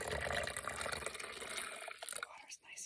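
Cold water is poured to fill a container at an off-grid desert camp in the Southwest USA, a short gurgling, splashing stream that tapers off and drips toward the end, close by.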